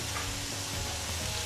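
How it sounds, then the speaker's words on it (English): Food stir-frying in hot vegetable oil in a pan on a stovetop, a close, steady broadband sizzle that holds evenly throughout with no talk over it. "you don't have to boil it first before stir frying"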